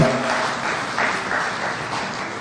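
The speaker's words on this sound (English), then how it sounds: "please let's recognize them with a warm clap" Warm clapping from an audience honoring young MCAs at the launch of a Kenyan young parliament, a moderate continuous patter of hands, fairly close, with no voices on top.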